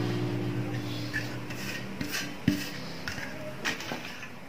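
A spoon stirs chili powder, turmeric and salt together in a bowl while making a bakery-style mixture snack. It gives soft scraping and light clinks against the bowl, close and fairly quiet, with no speech.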